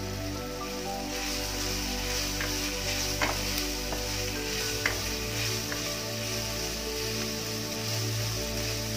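Capsicum strips and onion sauté in a pan with garlic for crispy honey chilli potatoes, giving a steady close sizzle with a few sharp pops and crackles scattered through it.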